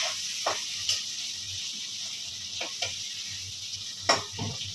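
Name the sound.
shrimp frying in hot oil in a wok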